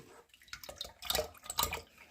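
Homemade sorrel drink pouring through a strainer, a steady close trickle and splash of liquid that swells and ebbs over a couple of seconds, with no voices.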